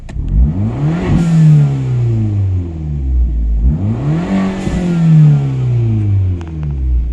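In a video game, a Fiat 500 Abarth in sport mode revs up hard twice, each pull climbing in pitch through the gears, loud and close with a buzzy engine note and no talking.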